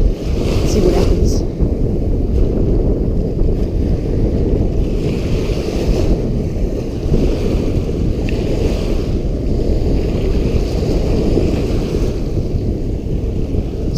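Strong wind at a KwaZulu-Natal estuary roars and buffets the microphone continuously, a loud low rumble with gusts rising and falling throughout.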